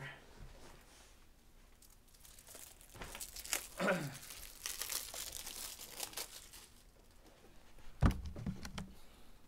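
Foil wrapper of a Bowman's Best baseball card pack being torn open and crinkled, a steady close rustle with a few sharper tearing bursts and one crisp snap near the end.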